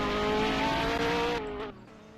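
A Formula Netta race car driving on track at a supercar time attack event, its engine holding a steady, tonal drone that shifts pitch before fading away, heard fairly close with no talk over it.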